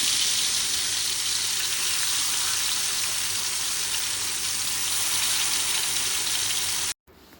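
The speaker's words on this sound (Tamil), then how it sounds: "அதுக்கப்புறமா நல்லா பிசைஞ்சு வச்சுட்டு தோசைக்கல்லில் ஒன்றா போட்டு எடுப்போம்" Spiced fish pieces frying in oil on a dosa griddle give a steady, close hiss of sizzling that runs evenly for about seven seconds, then briefly cuts out, with no voices.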